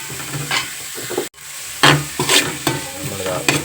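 Sliced onions sautéing in oil in a pan, a steady close sizzle broken by several scraping stirs of a spoon, with one brief silent gap partway through.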